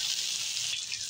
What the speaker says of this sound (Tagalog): Medyo tusta natin ito yung luya sa bawang. Saka lagay natin yung pusit natin.